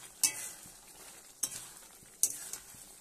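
Small chuno fish going into a pan of curry with ridge gourd, snake gourd and potato, a soft sizzle under three sharp utensil clinks against the pan, no voices.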